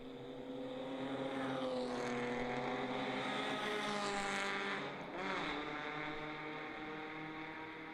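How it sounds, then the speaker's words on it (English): A Ford Pinto wagon race car roars past at Circuit of The Americas during an endurance race, its engine note rising and shifting as it sweeps by, loud and continuous, with the pitch dropping through the pass. "Here comes the Ford Pinto wagon"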